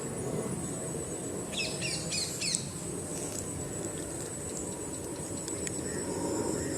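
Faint birds chirp in short scattered calls over a constant low roar of an aeroplane overhead, in a garden of remembrance.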